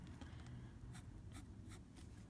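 A fine-pointed Eagle fountain pen scratches across paper in short, soft strokes, several distinct quick scrapes in an irregular rhythm, faint and close in a quiet room.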